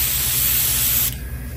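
An airbrush sprays paint onto a custom trout net, giving a close, loud, steady hiss that cuts off sharply near the end and leaves a quieter hiss.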